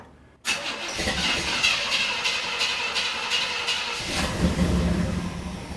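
A 1959 Pontiac engine cranks and fires up abruptly, then settles into a steady, fairly loud running idle with a rough mechanical clatter and a brief surge near the end.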